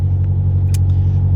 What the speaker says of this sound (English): So just listen to the engine for a second. It sounds really nice.